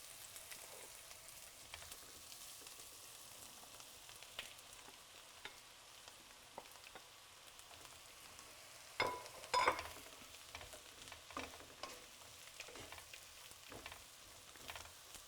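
Mushrooms sizzle softly as they're added to wilting onions frying in a pan, a quiet steady crackle with a brief louder clatter of stirring partway through.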